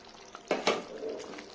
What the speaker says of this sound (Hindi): देखिए हमारा सालन अच्छे से पक रहा है।